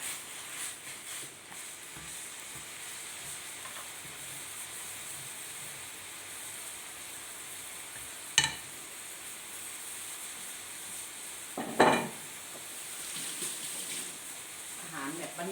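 Water boils in a pot with chicken legs added, a steady, fizzing hiss and bubbling, broken twice by sharp clicks or clinks.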